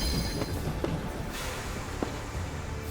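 A train rolls along in the video game Voidtrain, a continuous rumbling clatter of wheels and carriage with faint periodic clicks, steady and fairly close throughout.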